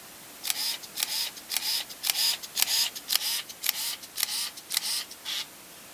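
A Contax G1 film camera shutter fires over and over in continuous mode: a quick run of about a dozen crisp, close mechanical clicks, with no talking.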